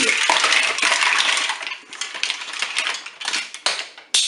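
Cooked mussels tumble from a Cookeo pot into a colander, a bright clattering rush of shells that thins into scattered clinks and a final knock, close and loud.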